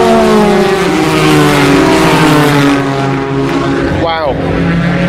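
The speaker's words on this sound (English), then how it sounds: "I thought you might want to hear some sounds of cars" Race cars at a motor race, including Toyotas and Ferraris, roar past loudly with a sustained engine drone and a sharp pitch sweep as one car passes close by, while commentary runs underneath.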